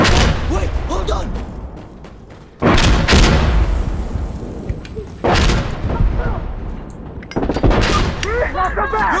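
Heavy explosive blasts from a thrown grenade in the shooter game Insurgency: Sandstorm, three loud booms with ringing tails, a high tinnitus-like whine after the second, and a voice calling out between them.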